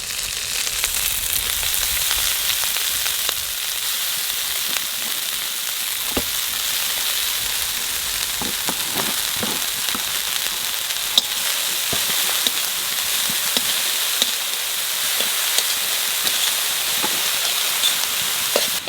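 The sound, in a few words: greens added to a hot pan, sizzling while frying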